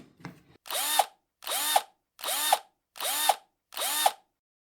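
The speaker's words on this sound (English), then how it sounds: "next, 5 screws, preferably with a Phillips head screwdriver." A power driver fitted with a Phillips bit backs out five screws from a Cornelius UF1 valve. It makes five evenly spaced whirring bursts, each rising in pitch and ending sharply, close up with no talk.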